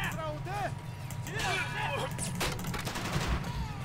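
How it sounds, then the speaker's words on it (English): Machine gun fire and other gunfire in the World War II-style strategy game Men of War Assault Squad, sounding as bursts and scattered shots under ongoing battle noise, with a player talking over it. "I got a machine gun up."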